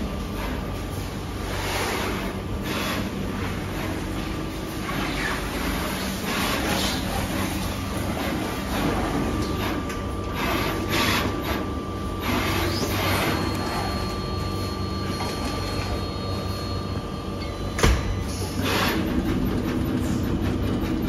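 GKG G5 printer paired with a Charmhigh TS10 ten-head pick and place machine running on a customer's factory floor, a steady loud mechanical drone with dense rapid clicking and whirring throughout, one sharp clack near the end.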